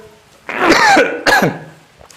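Two loud, harsh coughs close to the microphone, the first rasping and drawn out, the second shorter, with a faint breath afterward.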